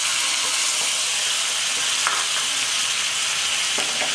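Lemon juice poured into hot tempering with curry leaves and turmeric sizzles and foams steadily, a loud, even hiss with occasional small crackles and no talk.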